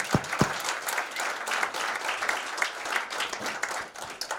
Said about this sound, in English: So big applause for all the ones who made that possible.